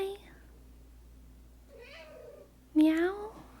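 A house cat meows nearby, three short meows spaced over a few seconds, the last one loudest, over a low steady room hum.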